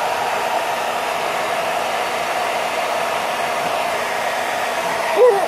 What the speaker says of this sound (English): Number three, dry my hair.